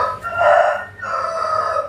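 A rooster crows twice in quick succession, loud and close, each call a long rising then drawn-out cry with no talk over it.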